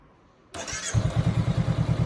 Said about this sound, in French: On va mettre le moteur en marche pour vérifier qu'il s'éteint